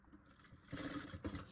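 A sewing machine stitching a katori blouse whirs briefly and faintly, rising slightly in the second half.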